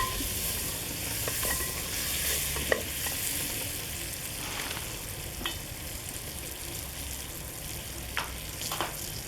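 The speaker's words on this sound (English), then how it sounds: "2 tablespoons curry powder. Give that a stir." A spoon stirs curry powder into a pot of curried tripe. A continuous soft sizzle runs beneath occasional scrapes and light knocks against the pot, close and moderately loud, with no voices.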